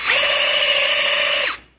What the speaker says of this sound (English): I recommend you use a cordless drill.